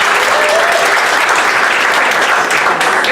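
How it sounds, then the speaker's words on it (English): Loud, dense applause from an audience at a pizza shop event, clapping for Danny and Jason as a steady, continuous wash of claps throughout. "Give Danny and Jason a round of applause."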